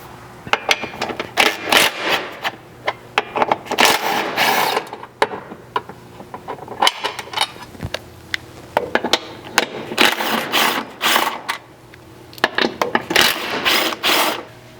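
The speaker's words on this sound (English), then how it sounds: "there's 8 bolts that will be removed. For this, you'll need a 12mm socket" A 12mm socket on a ratchet clicks in repeated bursts while removing the bolts of a strike slider on a 3rd gen Toyota Sequoia, the ratcheting close and distinct with short pauses between runs.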